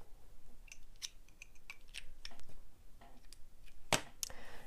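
Scissors snipping crochet yarn, a few crisp close cuts, with a sharp loud snip near the end and small handling ticks between, no voices.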